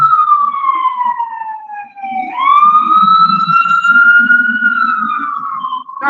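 Close and loud, an emergency vehicle siren sweeps in a long wail that dips and rises again, with a low rumble of traffic or an engine beneath it.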